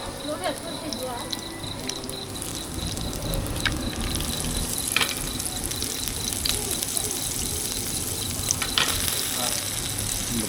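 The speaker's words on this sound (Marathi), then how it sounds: "आपले बांगडे शिजत लावलेले आहेत मस्तपैकी" Steady oily sizzling of mackerel frying on a hot griddle, continuous and close, with occasional faint clinks and no talking.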